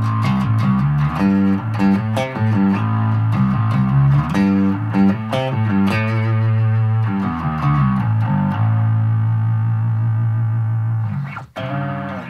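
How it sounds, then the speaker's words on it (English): Distorted bass tone played through a Blackstar ID:Core BEAM amplifier's bass distortion effect: thick, gritty notes in a continuous, loud riff that drops out briefly near the end. "And also bass distortion."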